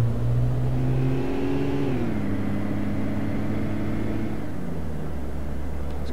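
A 2008 Range Rover engine in City Car Driving, a smooth mid-pitched engine tone rising under acceleration, then easing and dropping as the revs fall, continuous and close with no talk.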